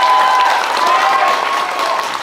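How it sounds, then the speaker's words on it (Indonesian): Audience at a youth talk event in Bandung with Anies Baswedan and AHY breaks into loud, dense applause that holds steady throughout, with crowd voices mixed into the clapping. "Tepuk tangan sekeras-kerasnya untuk"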